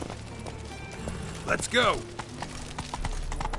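Roach, the horse in The Witcher 3 video game, gallops with rapid hoof clip-clops under a shouted voice and a brief whinny-like call, set against a steady game ambience.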